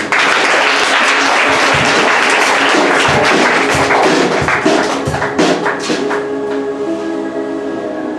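A church congregation bursts into loud, sustained applause that fills the room, a dense wash of clapping for several seconds before thinning into scattered claps and fading under a lingering hum.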